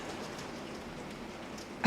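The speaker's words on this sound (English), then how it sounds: "is the rain beating against my window" Steady rain beats against a window indoors, a continuous soft patter filling the clip at moderate level with no talking.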